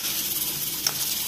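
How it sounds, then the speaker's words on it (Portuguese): Pork fat and sausage fry in a pan with a steady broadband sizzle and hiss, close and fairly loud, with one brief sharp pop near the middle and no talking. "Estou fritando aqui e esse aqui é o sarapaté."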